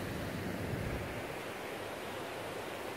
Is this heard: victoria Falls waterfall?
yes